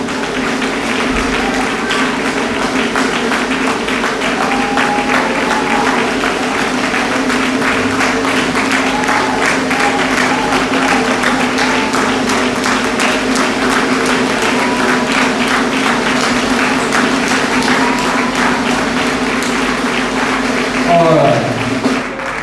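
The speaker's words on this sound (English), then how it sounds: "I think she deserves another round of applause." Applause for the honoured chairman at a Nigerian Medical Association scientific conference and book launch, a large crowd clapping in a dense, steady roar that holds for the whole stretch, with a brief voice near the end.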